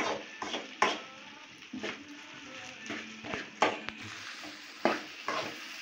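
Diced potatoes sautéing in a pan for a Tamil potato poriyal, with a soft continuous sizzle broken by repeated scraping and clinking of a spoon stirring against the metal pan, close and moderately loud.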